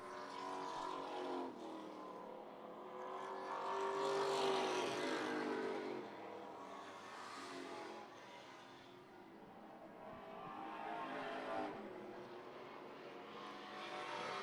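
Race cars lap a short track, engines swelling and fading as they pass, with one louder pass in the middle and a steady roar from the field, heard from trackside at a distance.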